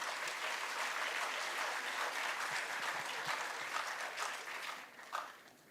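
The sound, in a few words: audience applause for a speaker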